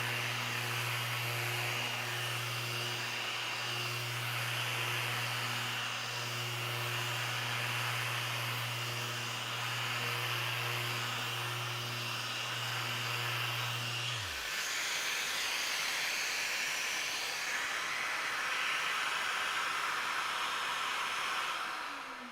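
A 125 mm sander running on a flat square wooden lid panel with an 800 grit disc, a loud continuous whirring drone with hiss that drops in pitch as the motor stops partway through, leaving airy noise.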